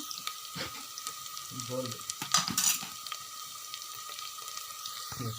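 Onions fry in oil for a spicy Hyderabad chicken gravy, giving a steady close sizzle with occasional stirring clinks and a brief louder scrape, while a voice speaks over it.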